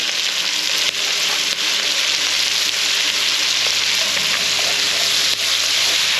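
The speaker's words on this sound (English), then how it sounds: "Take and mix these onions around in this bacon grease and get it started." Onions frying in bacon grease in a pan, a dense, steady sizzle and crackle with occasional small pops, close and continuous without talk.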